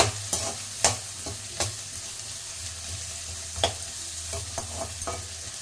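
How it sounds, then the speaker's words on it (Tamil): Drumstick pieces sauté in a pan with a soft sizzle, punctuated by sharp scraping taps of a ladle stirring at irregular intervals, close and quiet, no voices. "முருங்கைக்காய் கொஞ்சம் நல்லா வதங்கட்டும்."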